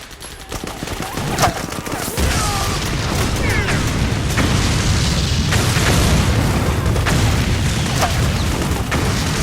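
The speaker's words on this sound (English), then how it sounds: "from this position, I can throw a grenade behind me" A grenade going off in the video game Metal Gear Solid 4 sets off a dense barrage of booms and gunfire. Heavy rumbling battle noise continues throughout, loud and close.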